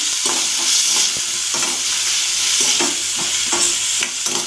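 Vegetables with tomato, coriander and salt fry in a pan for masala pasta, a steady loud sizzle broken by repeated scraping stirs, with no voices.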